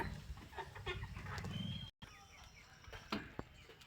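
Quiet, close clucking from chickens comes in short irregular bursts, with faint chirps and rustling around them.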